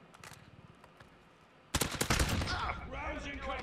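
Automatic gunfire in Call of Duty Modern Warfare during a 10v10 match on the Hackney Yard map: sparse sounds at first, then a sudden, loud, sustained burst of rapid shots that keeps rattling to the end.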